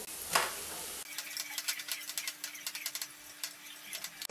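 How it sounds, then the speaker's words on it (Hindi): Cooked rice being stirred into dry spices fried in a pan, with steady rhythmic scraping and soft sizzling after a brief louder opening, plus a faint steady hum underneath. "अब मैं इसमें चावल डाल के मिक्स कर दूँगी।"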